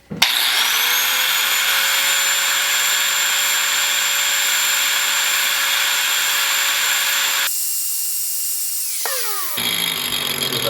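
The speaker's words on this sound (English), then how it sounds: "now I want to use the flap disc here and round off these edges just a little bit" A flap disc on a power grinder rounds off the cut edges of a shortened Honda Grom motorcycle axle, giving a loud, continuous high whine that shifts and winds down near the end.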